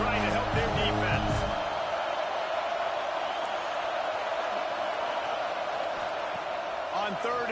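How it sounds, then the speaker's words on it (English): Stadium crowd in a college football video game, Texas against Michigan, roaring loudly and steadily as a dense wash of cheering, with some low thumps at the start and brief tonal calls near the end. "Listen to this crowd just shaking the girders of this place, trying to help their defense."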